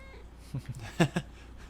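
A pet cat named Ruby gives a short, soft meow indoors, a brief vocal call with a couple of quick pulses over quiet room noise.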